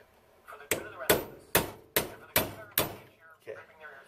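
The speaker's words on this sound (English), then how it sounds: "Using my chisel, I'm going to chisel it at an angle so it, as this thing bites into the metal, it raises the metal up." A hammer drives a chisel into the metal of a car's upper control arm, six hard, ringing metallic strikes spaced about half a second apart, loud and close, with faint low talk in between.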